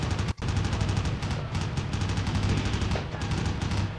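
Suppressing fire in Army Men: Land, Sea, Air, a dense, continuous rattle of rapid gunshots that runs nearly unbroken for several seconds, loud and close, with one brief dropout near the start.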